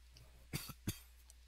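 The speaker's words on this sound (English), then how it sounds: "you ain't gonna be coughing and hacking during the whole thing" Two quick, soft coughs, close by, against a faint low hum.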